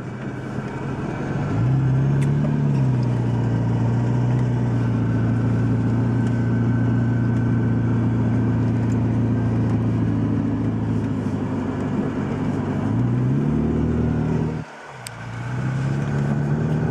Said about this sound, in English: So at the moment, it's changing gear for me.